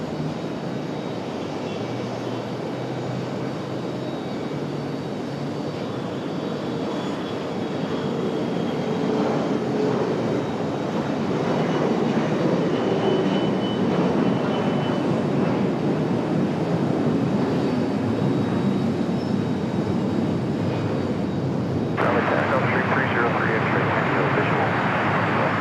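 An airliner powers up and rolls for takeoff on an RDU runway, a broad jet-engine roar swelling and holding loud across the scene, with radio chatter from air traffic control voices heard over it.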